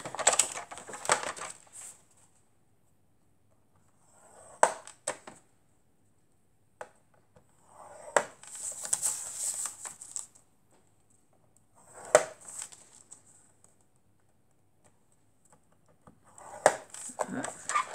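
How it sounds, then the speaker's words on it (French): Card being creased and folded by hand to make a chocolate box, heard as scattered short scraping and crinkling bursts separated by quiet pauses, close and fairly soft. "On fait nos plis."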